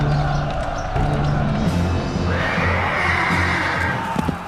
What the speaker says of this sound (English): the auxiliaries kill the barbarian horses, cutting off any possibility of a fast retreat